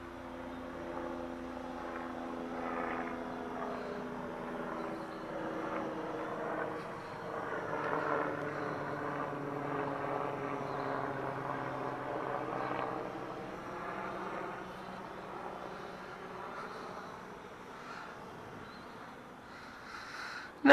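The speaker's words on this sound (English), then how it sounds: "I got a helicopter coming by," A low-flying helicopter passes by, its steady engine and rotor drone holding throughout at moderate loudness, with no talk over it.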